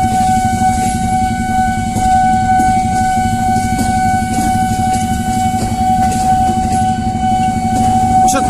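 Steady rumbling of a train bound for Bekasi, Indonesia, passing through a station, with a sustained high squeal and continuous clattering, no pauses.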